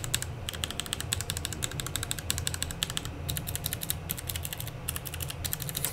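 Clicky switches on a Langtu LT84 mechanical keyboard clatter in steady, fast typing, each keystroke a sharp click over a low background hum, close and continuous with no one speaking.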